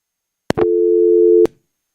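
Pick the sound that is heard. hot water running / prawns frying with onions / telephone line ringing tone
telephone line ringing tone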